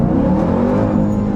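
Dodge Durango Hellcat's supercharged engine revs hard and loud up close, with a constant whine layered over the roar while the automatic is manually shifted, no one speaking.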